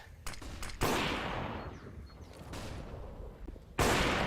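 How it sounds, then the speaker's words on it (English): AWP sniper rifle firing in Counter-Strike during an IEM New York 2020 CIS match, sharp loud broadband cracks at the start and end with a fainter burst between, over low game ambience. "AWP will fire away"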